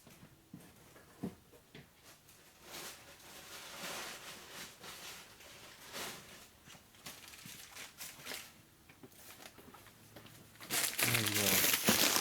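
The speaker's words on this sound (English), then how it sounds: "Packing paper works really good for this application. It's also good for cleaning it away." Packing paper crinkles and crumples repeatedly while sticky grease is wiped off fingers during a 1976 Harley shovelhead 4-speed transmission rebuild, soft rustling bursts that grow louder and rougher toward the end.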